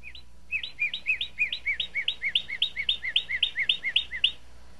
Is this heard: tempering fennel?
no